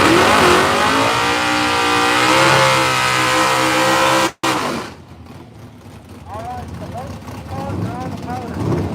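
A no-prep drag racing car at Southside Dragway roars loudly as it accelerates, its engine note climbing for several seconds before cutting off abruptly, followed by fainter, more distant engine noise.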